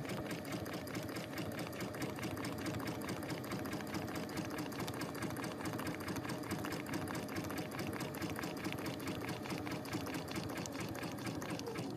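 Sewing machine running steadily in forward stitching on a reverse appliqué piece of holiday blooms fabric treated with Material Magic, a continuous close, even mechanical whir with rapid needle rhythm throughout.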